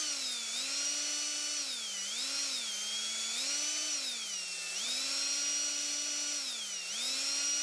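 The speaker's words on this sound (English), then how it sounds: "Since it's aluminum, it should drill very easily" A power drill whines continuously, its pitch rising and falling as the motor speeds up and slows while gently boring holes through aluminum on a 1958 Plymouth.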